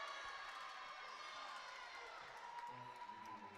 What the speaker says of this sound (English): Crowd starting to get involved here at Holt Fieldhouse.